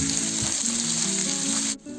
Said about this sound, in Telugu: అదేవిధంగా పచ్చిమిర్చి వేసుకోవాలి. 2-3 వేసుకోవచ్చండి.